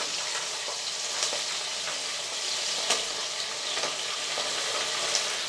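Ginger garlic paste and green chilies frying in a pan for moong dal fry, a steady close sizzle with scattered crackles and faint stirring scrapes, no talk.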